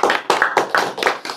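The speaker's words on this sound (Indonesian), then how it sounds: "Tepuk tangan untuk David Syaguna ya." Hands clap in a quick, even rhythm, about seven sharp claps in a short burst, close and fairly loud, with no talking over them.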